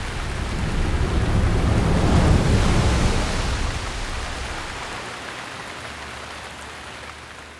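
Steady video-game rain hiss in Zelda: Breath of the Wild, swelling in the middle, then easing off to a softer wash, with no voices.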